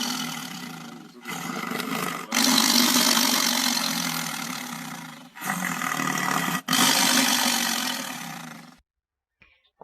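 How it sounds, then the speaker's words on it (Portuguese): A tiger roars in several long, loud, rasping bursts separated by short gaps, ending with a brief quiet tail. "Rugido de tigre."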